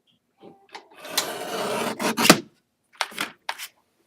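Paper trimmer blade drawn through white card stock for holiday Christmas cards, a few short rasping cuts with a longer sliding stroke, close and fairly clear with no talking.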